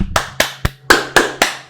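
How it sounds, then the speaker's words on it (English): Hand clapping, six sharp claps at an uneven steady pace, loud and close with short decays between them and no talk. "clap it up"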